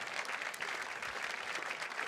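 An audience at a fundraising event claps steadily throughout, a dense, even patter of many hands with no voices.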